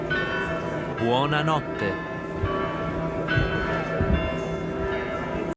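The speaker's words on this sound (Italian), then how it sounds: "Ho corso per beccare il rintocco delle 21 col bambino che viene accompagnato a letto da un angelo." Marienplatz Glockenspiel bells in Munich chime the nine o'clock evening toll, ringing clearly over a busy square ambience with crowd murmur and a brief spoken voice.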